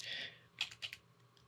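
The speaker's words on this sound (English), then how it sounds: "we're going to type in" A few quiet keystrokes tap on a computer keyboard, a short run of soft clicks followed by two or three separate presses, faint and close.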